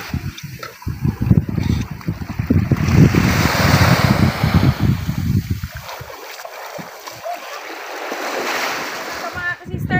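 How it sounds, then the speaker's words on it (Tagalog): Rough sea waves wash against a beach shore, a loud surging rush that rises and ebbs with heavy wind buffeting the microphone; muffled voices talk underneath. "Medyo malaki pa po kasi yung dagat."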